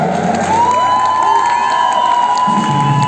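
A concert audience cheers, whoops and shouts for the maestro at a symphonic tribute, with a dense, loud crowd roar sustained throughout and some shouted voices on top.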